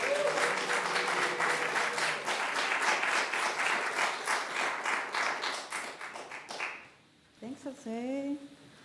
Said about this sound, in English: Let's give a big round of applause for Carr Johnson.